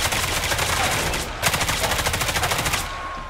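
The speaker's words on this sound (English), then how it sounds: "I may have done a barrage of bullets into the room" A rapid, loud burst of automatic gunfire sprays into a room in the Roblox tactical shooter Hellmet, the shots running as fast repeated cracks with a brief pause before a second dense barrage.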